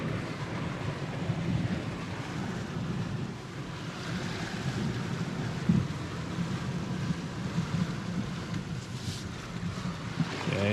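A 2021 Jeep Wrangler Rubicon 4xe pushes through deep water off-road, with a constant rushing, sloshing wash of water and wind noise against the microphone, steady and moderately loud with no speech.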